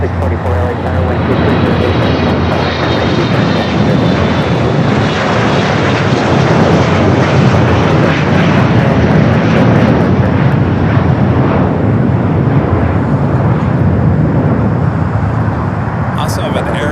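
Jet airliners roar continuously at LAX airport, a loud broad engine rumble sustained throughout with a talking voice over it.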